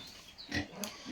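Pigs on a small local pig farm, including sows in heat, give faint, short grunts and snorts in a few quick bursts, with no talk over them.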